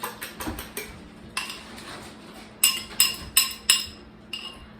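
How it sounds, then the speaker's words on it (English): Two metal baking pans are handled while being greased with butter for pumpkin banana muffins, giving a series of sharp metallic clinks and clatters, several spaced knocks with a cluster of louder ones near the end, close and without talk. "Can you grease those 2 pans for me?"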